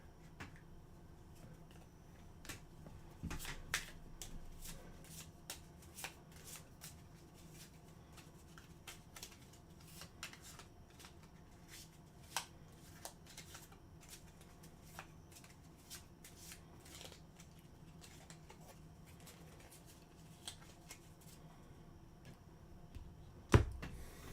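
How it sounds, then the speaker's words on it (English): Soft, rapid clicking and riffling of a card deck being shuffled, continuing for a long stretch, quiet and close, with a few sharper snaps. "Shuffle the enemy's deck here."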